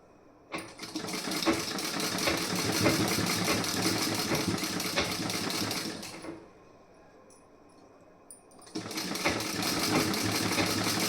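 A sewing machine stitches fabric in two steady, loud whirring runs, a long one and then a shorter one, separated by a few seconds of near quiet.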